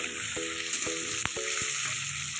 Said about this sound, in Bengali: সেই পেঁয়াজ কুচি দুটো দিয়ে দিলাম